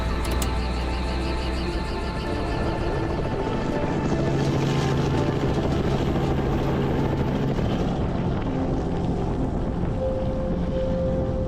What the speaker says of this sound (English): Let's get back to the chopper.